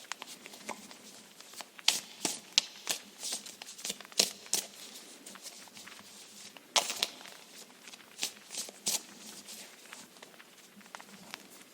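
Soft, repeated riffling and slapping of tarot cards being shuffled close by, in irregular bursts with short pauses between.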